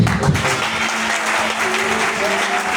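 A church congregation applauding and cheering to God, loud sustained clapping that fills the whole clip.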